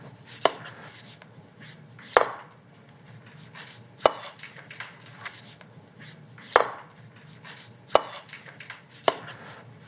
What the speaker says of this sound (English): use your knife to sort of peel around the outside and take this tough rind or this hide off the outside